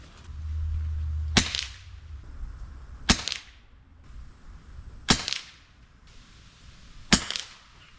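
Four sharp gunshots from a Keystone rifle fired at a target 50 yards away, evenly spaced about two seconds apart, each a loud crack with a short fading tail and no talking.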